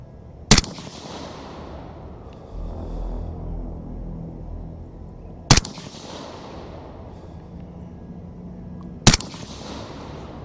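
Three sharp gas gun shots ring out at a target several seconds apart, each a loud crack followed by a fading outdoor echo, with no talking between them.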